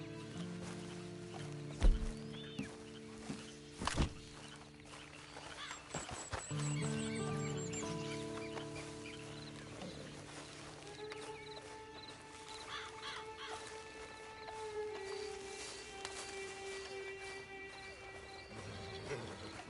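Horse hooves clip-clop in Red Dead Online, a steady trotting rhythm at moderate distance, with a couple of sharp thumps early on, a horse whinny, and crow caws mixed into a quiet outdoor ambience with music-like tones.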